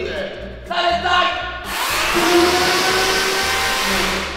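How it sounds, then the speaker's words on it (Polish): A power saw runs loudly and steadily in an outdoor work area, its broadband whine starting abruptly partway through and holding to the end. Brief sounds come before it, and a voice may be present. "czego żeś pan napierdziela tą piłą?"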